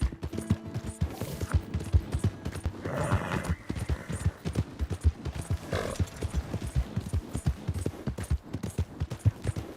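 Horse hooves clip-clop steadily on the ground in Red Dead Redemption 2, a close, even trotting rhythm that runs throughout with an occasional whinny and some background clatter.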